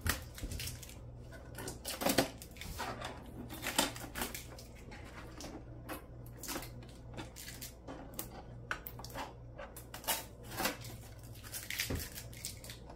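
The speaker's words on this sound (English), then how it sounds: "It's got all this tape on it for shipping." Shipping tape being peeled off a new Epson EcoTank ET-2400 printer, a steady run of close crinkly rips, scrapes and taps over a low background hum.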